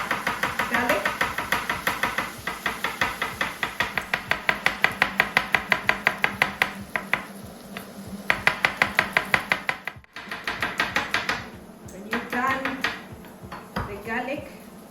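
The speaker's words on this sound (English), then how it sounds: "I'll then dice my garlic." A knife dicing garlic on a chopping board in a home kitchen, rapid regular taps in bursts, close and crisp, with some clatter of utensils and a short pause between runs.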